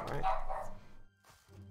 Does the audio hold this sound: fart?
no